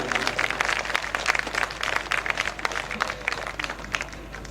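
An audience at a poetry gathering breaks into dense, sustained applause, many hands clapping at once close by, fading slightly toward the end.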